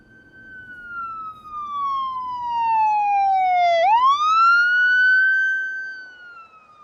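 A single siren tone sweeps slowly downward, then quickly rises and holds high, loud and clear with no voices.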